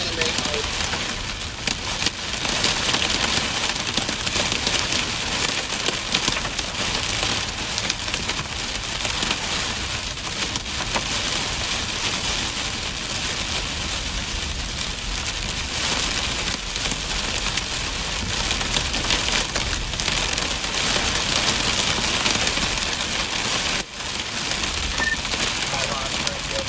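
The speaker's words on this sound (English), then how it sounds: "it is raining" Rain pours during a storm chase in Nebraska, a dense, constant hiss and patter that runs unbroken for the whole stretch with no clear voices.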